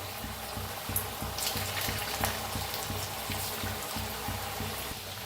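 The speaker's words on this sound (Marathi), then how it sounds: "तर बघा छान असं तळून घेऊया." Chapati pieces deep-frying in hot oil in an iron wok give a steady, close, bubbling sizzle with a soft crackle that runs unbroken throughout, with no talk.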